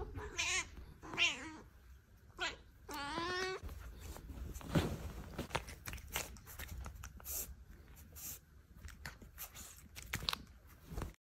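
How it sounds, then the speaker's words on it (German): A small cat meows several times in short, rising calls close by, the sound quiet overall, with light rustling and soft handling noises in between. "wir haben uns mal zwischendurch eine kleine Katze verdient"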